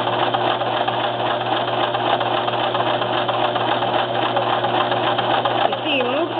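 A Brother LX3014 sewing machine stitches a monogram with a steady, continuous mechanical hum and whir that runs the whole time, with a voice talking over it.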